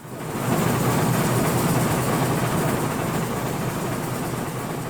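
A freight train being pushed along in the Railroads Online game gives a loud, steady rumble with metallic rolling noise that fades in and holds throughout, with no voices.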